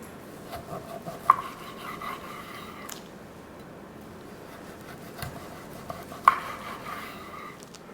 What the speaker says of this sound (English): Let's flip them over, slice into them.